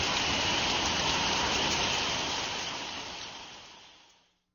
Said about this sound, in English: giant overhead sprinklers send down pouring rain